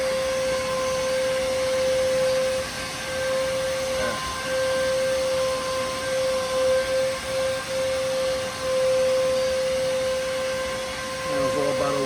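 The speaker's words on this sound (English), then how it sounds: "A minute of buffing, about 4 passes." A Rupes car polisher with an intermediate pad buffs paint, giving a loud, continuous motor whine with a steady pitch that shifts slightly near the end.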